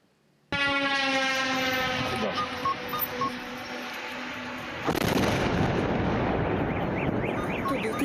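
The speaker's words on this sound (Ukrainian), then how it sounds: "пролунав потужний вибух. Ось як це було." A sustained air-raid siren drones, then a sudden loud blast from a Shahed drone strike on a medical facility in Sumy erupts and becomes broad rumbling noise that continues to the end.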